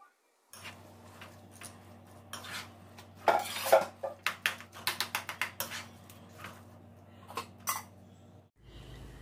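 A spoon stirs raw jackfruit curry in a metal pot, making a rapid run of clinks and scrapes against the sides. The sound is close and irregular, grows busier midway, then tapers to a few taps.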